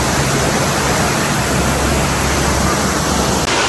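A steady, loud roar of falling water, dense and unbroken, as if standing close to Shifen Waterfall in Taiwan.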